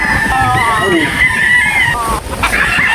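A rooster on a rainy chicken farm in Surigao crows loudly and close, its long call stretching over a couple of seconds against a busy backdrop of other fowl.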